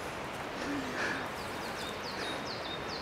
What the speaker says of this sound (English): You can hear the bird